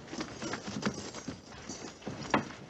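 Hooves clop softly on the ground at a slow, uneven pace, with a few brief louder knocks and a faint background murmur.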